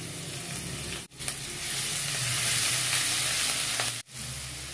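Garlic and onion fry in a little oil, a loud, close, continuous sizzle that cuts out briefly twice, with no talk.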